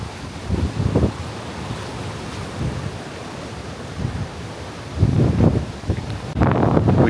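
Ocean waves surge beyond the break walls at the Caribe Hilton beach resort in San Juan, Puerto Rico: low, rumbling swells rise and fall every few seconds under steady wind buffeting the microphone.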